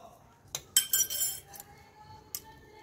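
A spoon stirs a spoonful of salt into milk curdling with vinegar in a village kitchen pot, giving a few light metallic clinks and scrapes, the loudest cluster in the middle, over a quiet background.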